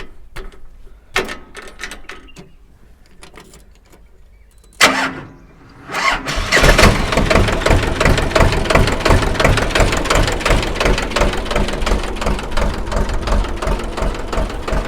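Sonalika tractor engine, first a few faint clicks and a brief crank, then the diesel catches and settles into a loud, steady rumbling idle close by.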